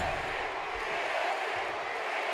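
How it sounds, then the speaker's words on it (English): A wrestling arena crowd chants for the women's champion, a broad, distant roar of many voices that stays steady throughout the short stretch. "The crowd chant for the women's champion"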